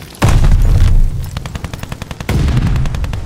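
Heavy automatic gunfire in a Call of Duty: Vanguard Hardpoint match, loud close bursts and rapid rattling shots with a booming blast at the start and another near the end.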